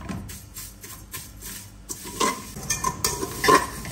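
Vermicelli fry in a pan while being stirred, soft rhythmic scraping strokes over a light sizzle that grows louder and more crackly toward the end, no speech.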